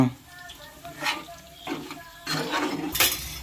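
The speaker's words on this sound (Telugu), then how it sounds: "ముక్కలకు పట్టేలాగా దాన్ని గట్టితో తిప్పాలి" Chicken pickle is stirred in a pan coated with chili powder, giving scraping and metallic clinks in short uneven bursts over a low sizzle, close and moderately loud.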